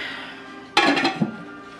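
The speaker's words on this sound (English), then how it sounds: "I'm just going to go ahead and put the lid on there" Lid set onto a slow cooker with pulled pork, a single close clatter of lid against pot followed by a short rattle as it settles.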